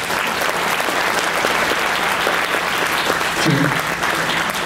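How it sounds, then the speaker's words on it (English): Steady applause from an audience at a digital preservation conference's innovation awards presentation, dense and continuous for the whole stretch, with a brief voice surfacing near the end. "Maybe another round of applause for our"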